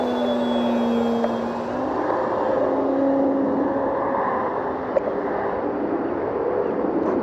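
An E-flite Extra 300 RC airplane flies nearby, its electric motor whining and shifting pitch as the throttle rises and falls, with steady wind noise underneath.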